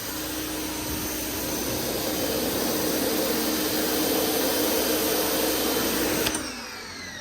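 An Active 2.0 pressure washer sprays a concentrated jet onto a car while cleaning off bugs, a loud steady hiss with a motor hum that runs evenly for about six seconds, then cuts off abruptly near the end.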